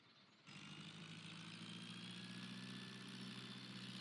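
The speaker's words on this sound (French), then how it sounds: "faut que je mette le moteur en marche" A farm vehicle's engine starts up in Farming Simulator 17, jumping from near-silence into a steady, faint mid-pitched idle hum that holds without change.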